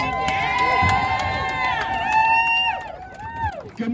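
Rally crowd on a city street corner cheering and whooping in a sustained loud wash, with strong voice-like shouts rising above the roar before it tapers off.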